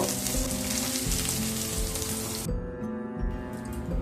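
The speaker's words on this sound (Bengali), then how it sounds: "মিডিয়াম টু লো স্টিমে পনিরগুলোকে ভেজে নেব।" Paneer pieces frying in a pan over medium-low heat, a dense steady sizzle close by that thins out partway through, with no voices.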